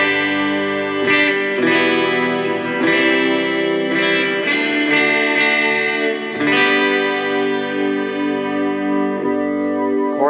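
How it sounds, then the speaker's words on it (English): An electric guitar played through a Fender Mustang Micro headphone amp with modulated reverb: sustained, shimmering chords and notes with a wavering wash, strummed steadily and loud, with no talking. "Modulated reverb."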